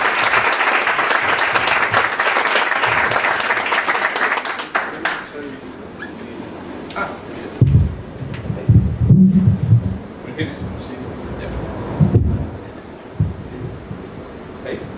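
Audience at an ICPNA conference in Lima applauding for a speaker, loud dense clapping for about five seconds that stops abruptly, followed by someone talking into a microphone with thumps and handling noise.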